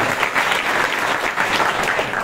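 An audience at a satsang in Pandharpur claps steadily in a close, continuous burst of applause with slight rhythmic surges.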